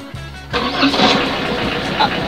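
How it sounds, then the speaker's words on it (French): An Opel Corsa engine cranks briefly and catches after a short pause, then settles into a steady idle close by, with someone talking over it. "Et on va passer aux essais, je vais la démarrer."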